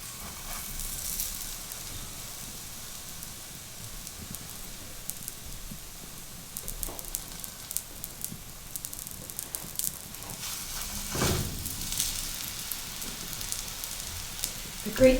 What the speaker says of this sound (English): once you lay it on there, you just want to make sure that you let it cook thoroughly on both sides